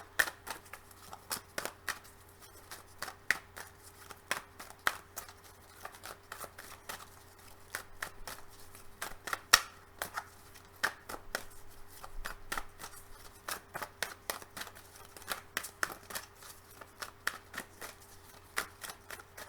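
Tarot cards being shuffled close by: a long run of quick, crisp riffling snaps and flutters, quiet and steady, with no speech.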